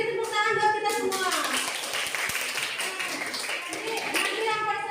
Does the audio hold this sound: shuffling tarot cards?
no